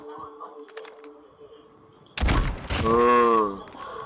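Gunfire in the mobile shooter Call of Duty Mobile during a battle royale match: a sudden loud burst of shots followed by a ringing, tonal echo, after a quieter stretch of faint game sounds.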